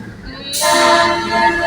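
A train runs along the railway into Nairobi, sounding a loud sustained horn toot over the rumble of the rolling cars.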